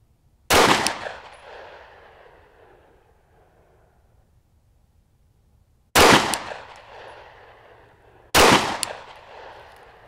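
Pistol fitted with a Trijicon RMR sight fired at a shooting range: three loud, sharp gunshots spaced several seconds apart, each followed by a fading echo.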